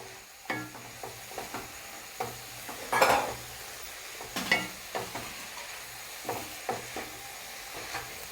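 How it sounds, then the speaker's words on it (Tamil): Shredded cabbage and carrot frying in a pan for a hotel-style cabbage poriyal, stirred with a spoon in about a dozen scraping strokes over a soft, constant sizzle, heard close and with no speech. "இதை இப்போ நல்லா கிளறிக்குவோம்"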